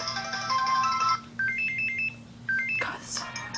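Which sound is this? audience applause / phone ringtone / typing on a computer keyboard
phone ringtone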